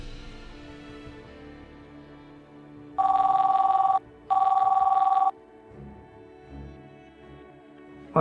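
Telephone bell in an Indonesian family drama rings in two loud, even bursts of about a second each, standing out clearly over quiet background talk.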